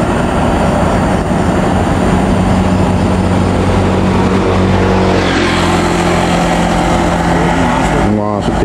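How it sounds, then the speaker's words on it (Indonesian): A Bintang Utara intercity bus drives into Pekanbaru, its engine and road noise forming a loud, steady rumble throughout, with a sharp burst of passing traffic near the end. "Bus Bintang Utara 1968 memasuki kota Pekanbaru."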